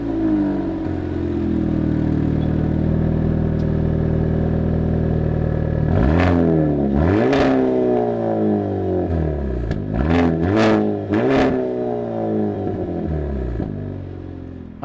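A 2022 Hyundai Elantra N idles with a deep exhaust burble from its two large tips, then revs sharply several times, each throttle blip rising and falling in pitch, loud and close.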